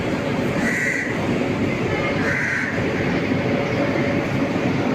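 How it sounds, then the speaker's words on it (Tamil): Udyan Express waiting at platform 17 of the busy Mumbai CSMT station, with a steady, dense rumble of railway noise and platform bustle that stays loud and unbroken throughout, and no speech. "பிளாட்ஃபார்ம் நம்பர் 17ல் ரெடியாக நம்ம உத்யான் எக்ஸ்பிரஸ் வெயிட் பண்ணிகிட்ருக்கு"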